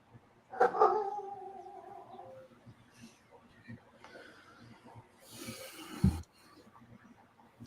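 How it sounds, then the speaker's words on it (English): A dog barks once or twice in the distance, a short yelping sound near the start, with murmured talk and soft background noise, then a muffled thump later. "Somebody's dog is barking,"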